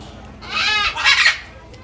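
A bird calls at a zoo: two bright, harmonic squawks in quick succession, clear and fairly close, over a faint background murmur.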